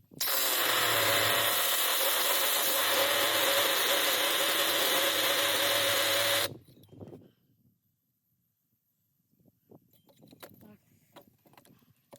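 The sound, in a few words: power drill drilling a hole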